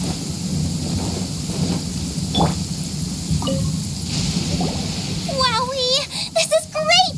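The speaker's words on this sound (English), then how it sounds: "It's raining." Steady rain hisses through a Genshin Impact scene, with a brief thunder-like rumble and chirpy character voices speaking over it near the end.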